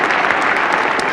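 Dense, continuous applause from a crowd at a cricket Test match, a steady close wash of clapping with no pauses.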